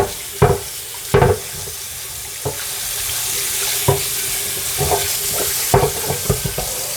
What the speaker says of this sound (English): Another thing I do immediately I wash my pan.